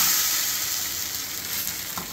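Adai dosa batter sizzles and crackles on a hot tawa, a steady close frying hiss with faint bubbling pops and no talking.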